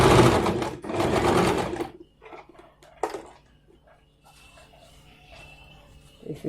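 An electric sewing machine stitching elastic into an Afghani salwar: two loud, close bursts of rapid needle clatter in the first two seconds, then quieter fabric handling and a short whir near the end.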